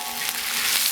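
Green beans and eggplant stir-fry in a wok with a steady, close sizzle and a soft frying hiss that holds unbroken for the whole second.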